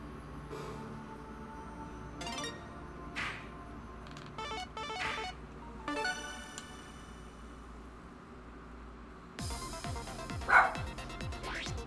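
A dog barks and yips in short scattered bursts over roughly twelve seconds while a Tetris 99 game track plays, with a louder burst near the end and no clear speech.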